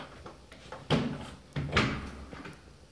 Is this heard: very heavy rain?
no